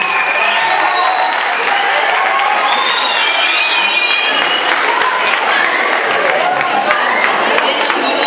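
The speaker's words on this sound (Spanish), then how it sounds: "demos un aplauso al señor Conejo" A school audience in an auditorium gives loud, continuous applause, dense clapping with some cheering and excited voices, lasting about eight seconds.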